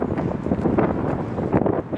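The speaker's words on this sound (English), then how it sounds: "See, wind's blowing directly towards us." Wind gusts buffet the microphone at a lagoon in a close, continuous rough rumble for a couple of seconds.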